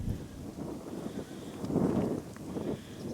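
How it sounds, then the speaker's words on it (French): A light wind buffets the microphone outdoors among rice fields in Spain's Ebro Delta, a low, soft rumble that swells briefly in the middle before easing off again. "Un tout petit peu de vent, ça va peut-être vous gêner."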